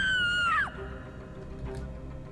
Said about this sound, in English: That scream is coming from down the corridor.